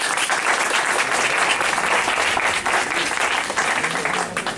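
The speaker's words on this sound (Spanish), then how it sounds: "démosle un fuerte aplauso" Audience at a panel discussion on Afro-Colombian identity breaking into loud, sustained applause, thick continuous clapping heard up close with no speech over it.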